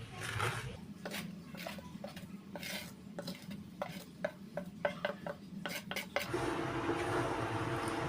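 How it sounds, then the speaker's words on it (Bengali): Gram flour stirred in ghee inside a kadai with a metal spatula, a steady run of scraping strokes and sharp clinks against the pan, with a soft sizzle underneath and no talking. "বেসনটা দেওয়ার পরেই এইভাবে খুনতে দিয়ে নাড়াচাড়া করতে হবে"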